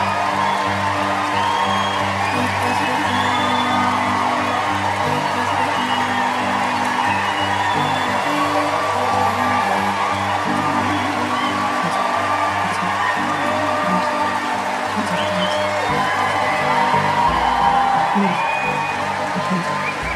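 A large studio audience applauds and cheers continuously at a talk show, steady clapping with whoops and shouts blending into a sustained roar.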